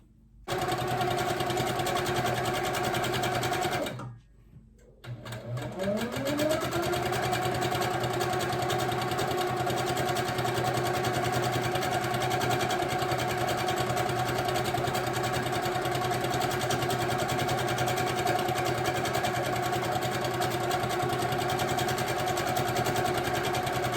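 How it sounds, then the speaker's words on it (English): A sewing machine runs nonstop while stitching a quilt of ice-dyed fabric, a steady close whirring hum that pauses briefly near the start and then continues evenly to the end. "I'm going to go ahead and I'm going to keep on stitching"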